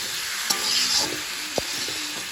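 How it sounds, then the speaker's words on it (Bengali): Ginger, cumin and chili paste sautéing in a pan for a paneer curry, a loud continuous sizzle up close with a couple of sharp utensil knocks as it is stirred. "টমেটো দিয়ে কষানো হচ্ছে, দিদি মশলা দিয়ে টমেটম দিয়ে কষানো হচ্ছে।"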